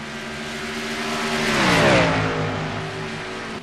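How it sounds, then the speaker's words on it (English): Race cars zoom down the front straightaway at Indianapolis Motor Speedway during the Brickyard 400, engines swelling as they approach and passing by with a falling pitch before fading. "Here comes Cruz Ramirez and Brandon Power Car zooming through the front straightaway along with the other cars"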